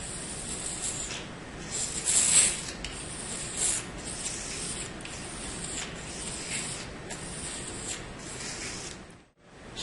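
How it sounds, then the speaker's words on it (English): A small razor scrapes irregularities off the edge of a scintillator block, giving a steady close rasping and rubbing texture with a few louder strokes and a brief pause near the end. "I should start with this little razor and scrape off the irregularity on the surface of this edge right here"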